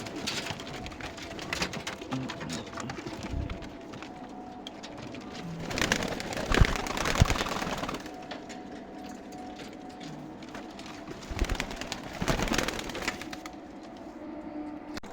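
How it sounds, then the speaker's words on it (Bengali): Domestic pigeons let out of their coop for feeding coo repeatedly nearby, a low throaty murmur that swells and fades in waves over a steady background patter. "এবারে সমস্ত পায়রাগুলোকে ছাড়বো বন্ধুরা"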